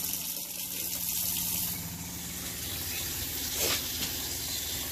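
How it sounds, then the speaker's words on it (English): An RV water pump runs while the kitchen sink faucet pushes antifreeze through the lines during winterization, giving a steady close hiss of flowing liquid with a brief surge near the end. "I can also hear the pump kicking."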